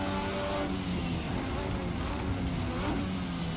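Formula 1986 V6 race car engine in a racing sim game, revving hard at high rpm with a steady dense roar throughout, someone talking over it.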